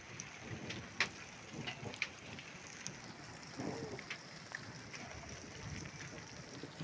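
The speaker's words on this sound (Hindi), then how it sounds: "देखिए बर्फ़ के साथ ना अब बारिश भी शुरू हो गई है" Rain falls softly alongside snow, with faint scattered drops tapping nearby surfaces under quiet background noise.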